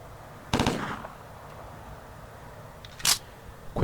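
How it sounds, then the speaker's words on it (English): A stun gun fired in short bursts in the video game Hidden and Dangerous Deluxe, with a sharp clattering burst early on and another crisp burst near the end over a low background hum. "Quick burst from our stun gun, and he's out of the way."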